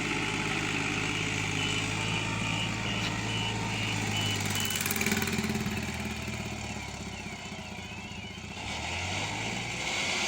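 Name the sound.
tractor engine pulling a trolley loaded with bricks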